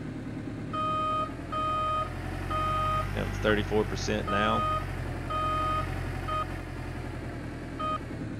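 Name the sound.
dump truck reversing beeps in video game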